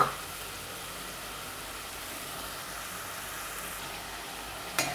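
Jamaican curry pork in a pot thickening as it cooks, a soft, even hissing sizzle held steady throughout, with a brief clunk at the start and near the end, no voices.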